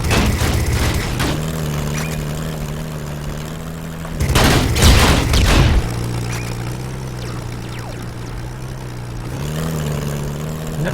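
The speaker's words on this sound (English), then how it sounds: "Sounds like they're shooting okay." In the aircraft game Steambirds Alliance, enemies fire a short, loud burst of gunfire lasting under two seconds, rising out of a steady droning engine hum that continues before and after.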